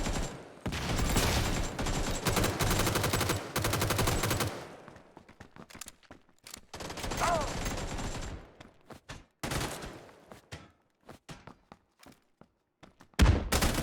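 Heavy sustained gunfire and a blast from a tactical shooter video game with a breaching squad, dense and loud for several seconds, then thinning into scattered shots, thuds and footsteps, with a sharp loud bang near the end.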